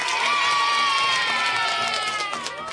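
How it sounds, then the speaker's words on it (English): A crowd cheers and shouts with excited high voices, loud and sustained throughout, as a round of applause is given for a four-year-old girl. "Let's all give Isabella a round of applause,"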